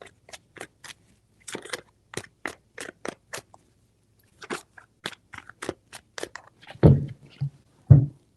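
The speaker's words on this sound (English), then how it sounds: "Three shuffles." A run of crisp, rapid riffling bursts of tarot cards being shuffled close by, with a few heavier thumps near the end.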